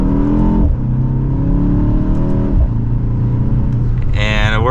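A 2024 BMW X2 M35i accelerates from inside the cabin, engine pitch climbing through two upshifts, loud and close, with a person speaking over it.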